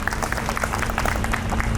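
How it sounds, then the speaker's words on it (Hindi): A crowd at a Republic Day celebration in Warora, India claps steadily throughout, a dense patter of many hands with no pauses, fairly loud and even. "तालियों के साथ उनका अभिनंदन कीजिए।"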